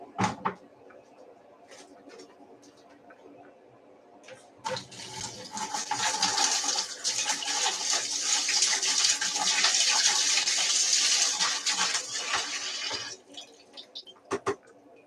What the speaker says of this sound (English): I'll just give this spoon a quick rinse.